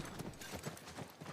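Horse hooves clip-clop in a steady rhythmic gallop while riding in The Last of Us video game, a repeating run of muffled hoof beats heard close and fairly loud without talk.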